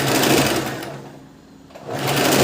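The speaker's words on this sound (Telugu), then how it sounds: "పాదం దించుకుని స్టిచ్ చేసేసుకోవాలి" Sewing machine stitching a princess cut blouse, a loud close whirring run that slows and nearly stops midway, then speeds back up.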